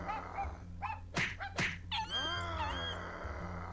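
A dog close by whimpers and yelps in a few rising, whining cries, with short sharp yips in between, fairly quiet overall.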